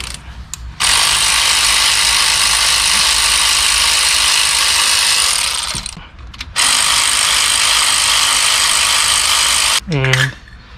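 A ratchet works loose a 14 mm bolt on the front brake of a 2016-2021 Chevrolet Malibu, giving long bursts of rapid, loud close clicking with a short pause between strokes.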